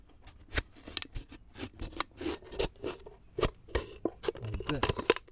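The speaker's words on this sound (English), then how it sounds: "I just took a pair of scissors and I went up to the top of the bottle" Repeated snipping and crunching as scissors cut through a stiff plastic bottle, sharp clicks in an uneven rhythm, close by, with some faint talking underneath.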